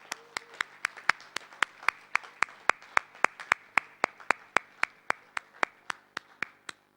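Steady, evenly spaced hand claps ring out alone at a Lions Club of Riffa mushaira gathering in Bahrain, honoring Lion Khurshid, sharp and close with no talking.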